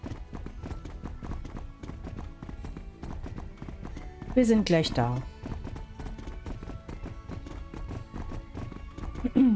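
Horse hooves clip-clop in a steady trotting rhythm in the Horse Club Adventures video game, with a short whinny midway and a person talking over the hoofbeats.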